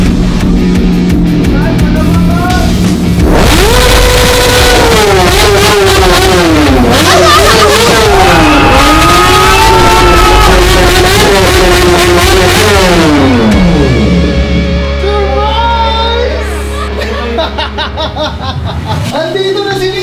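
A Kawasaki Ninja superbike engine revs up and down loudly at close range, rising and falling in pitch, while people talk and laugh over it before the engine settles to a lower idle.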